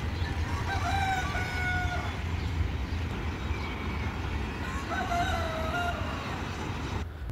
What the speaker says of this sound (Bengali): এত সুন্দর মোরগের ডাক সকাল সকাল অনেক ভালো লাগে।